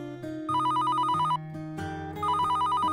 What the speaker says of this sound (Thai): โอ้เสียงโทรศัพท์